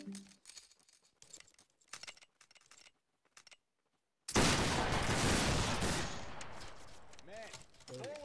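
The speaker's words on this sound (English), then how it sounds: "Open fire!" A loud gunfire volley from a line battle video game erupts as one sustained crackling burst of many muskets at once, following quieter scattered movement and a brief pause, with a few faint ringing tones trailing at the end.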